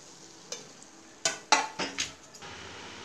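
Slices of bread fry in hot oil for bread halwa, a soft sizzle underlying several sharp metallic scrapes and clinks of a utensil against the pan, close and without talk.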